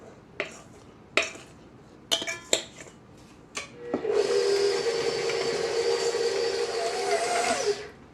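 Ingredients mixed in a bowl: several sharp clinks and taps against the bowl, then a steady, loud whir of an electric mixer lasting about four seconds before it stops.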